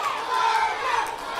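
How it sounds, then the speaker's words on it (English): A capacity crowd at a wrestling cage match cheers and shouts continuously, a dense roar of many voices filling the arena at close range, loud and unbroken. "this capacity crowd rooting Soulja on, trying to fuel his fire"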